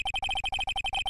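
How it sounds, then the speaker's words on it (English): A phone ringtone from the Ace Attorney video game plays alone, a quick bright electronic melody of about a dozen short evenly spaced tones repeating in a steady pulse, clear and fairly quiet. "I know that song your phone plays when it rings."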